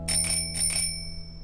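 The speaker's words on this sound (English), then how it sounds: "Then Mr. Monkey tried the bicycle bell." Two quick double rings of a bicycle bell, bright metallic chimes close by that fade into a lingering tone, with no voices.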